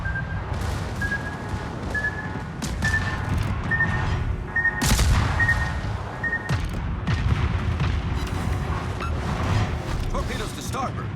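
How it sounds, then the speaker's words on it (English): Naval guns fire at an enemy warship in World of Warships, heavy booming salvos rolling out one after another with mechanical clatter, while a voice calls out orders. "Concentrate fire on the enemy warship."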